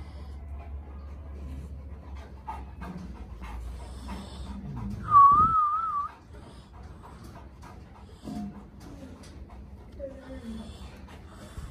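A Canary Mastiff pants close by in quick, rough breaths, heaviest early on, while a person calls to it over and around the panting.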